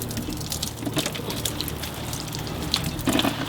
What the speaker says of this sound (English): let's just water these a little bit with my trusty watering can